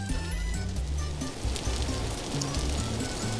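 Steady rain falls in the survival game Vintage Story as a continuous broadband hiss of drops, with low, blocky tones of game music playing underneath throughout.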